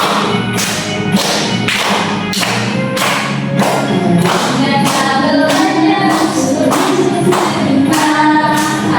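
A primary school class of children clapping hands together in a steady, rhythmic beat, loud, sharp slaps repeating roughly twice per second throughout with no talking.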